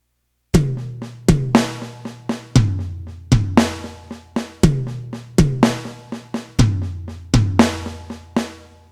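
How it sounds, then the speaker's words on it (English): Paradiddle drum fill on a kit with the bass drum doubling each tom hit, repeated sticking bursts of sharp strokes over deep booming kicks, close and loud, cycling several times without talk. "So every time I hit a tom, I'm going to play the bass drum along with it."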